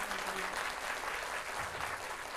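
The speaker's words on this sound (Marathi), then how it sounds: "त्यांच्यासाठी जोरदार टाळ्या वाजवूयात." Applause from an audience at a school gathering for a children's performance, a steady wash of many hands clapping, heard faint and from some distance, with no voices.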